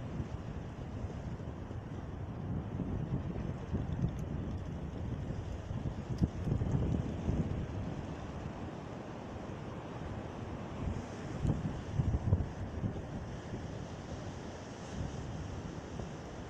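Waves break on the shore at Hamlin Beach State Park on Lake Ontario, a soft, distant wash of surf mixed with wind rumble that rises and falls gently.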